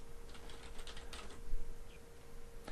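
Keys are typed on a computer keyboard in a quick, quiet run of soft clicks, with a low steady hum behind them.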